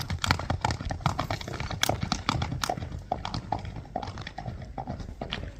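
Hooves of a strong horse clip-clop steadily as it is ridden, close and fairly loud, in a brisk continuous rhythm with no talk.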